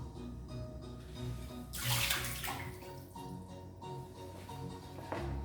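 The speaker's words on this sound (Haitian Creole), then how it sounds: "on va retirer de l'eau là dedans" Water used to wash onions is poured out of a bowl, a soft steady splashing and trickling with a brief louder gush partway through, close by and quiet with no talking.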